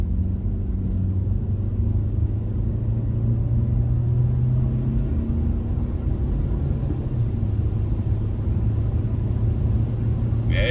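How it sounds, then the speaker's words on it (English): A SEAT Leon accelerates hard in third gear, its engine a steady low rumble and drone heard from inside the cabin, loud and continuous throughout. "Third gear, Paul, let's go."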